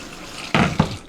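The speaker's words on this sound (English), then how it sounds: "Rinse it real quick." Chicken legs are rinsed under a running kitchen tap, with two short close splashy bursts of water against the meat after a quiet start.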